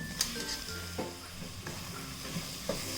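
Drained, boiled soya chunks are stirred and fried in a pan, a steady sizzle punctuated by several clinking spoon scrapes against the metal, close and fairly quiet with no talk.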